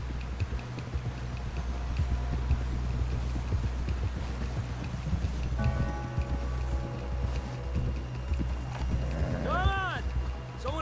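Rapid hoofbeats of a galloping horse in Red Dead Redemption II run steadily under a low, constant hum, with a voice speaking partway through.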